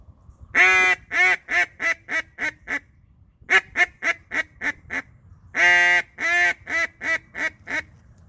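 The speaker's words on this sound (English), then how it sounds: "So this is what the hail call is going to sound like on the Sure Shot." A Sure Shot duck call blown as a hail call gives loud, reedy quacks in three descending runs, each starting with a long drawn note and tapering into shorter rhythmic quacks, close and alone.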